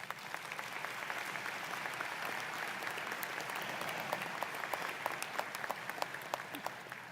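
An audience at a ceremony gives a long, steady round of applause, many hands clapping together in an even, fairly distant wash with a few sharper claps standing out, no talking over it.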